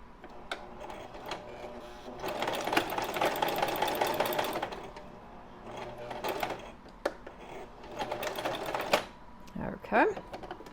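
A sewing machine stitches across the bottom of a piece of fabric, its rapid needle clatter running in bursts with short pauses between them, close and fairly loud. A voice speaks briefly near the end.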